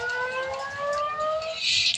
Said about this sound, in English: Air raid sirens sounding over Tel Aviv